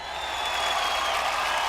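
An audience at a film event for NTR Jr. claps and cheers, producing a loud, steady wash of crowd applause that continues throughout.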